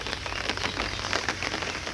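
Rain falling steadily on a surface on a rainy day outdoors, a dense, close patter of drops lasting throughout with a few louder taps, no voices.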